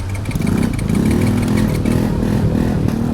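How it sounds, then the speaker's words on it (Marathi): A motorcycle engine runs loud and close with a rough, slightly uneven mid-pitched drone and small surges, though no clear stop and restart stands out. "इंजिन बंद होत आहे ना"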